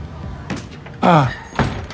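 A door sounding as a man steps out, a few short thuds and a latching clunk close by, separated by brief pauses.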